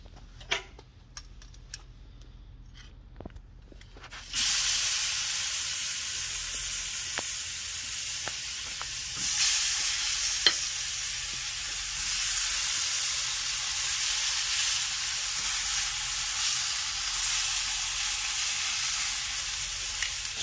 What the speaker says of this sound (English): So we're just going to wait for these to sear for about 40 seconds per side.